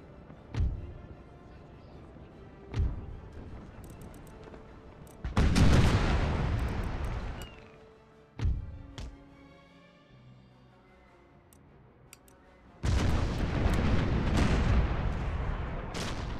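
Close-range musket volleys in the Total War game Empire II with the Poland-Lithuania mod, heard as several separate sharp bangs, a few of them stretching into long rolling bursts, with quieter stretches between.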